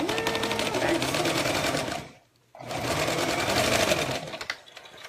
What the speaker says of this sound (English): So we're going to open it up, lie it flat, and sew along.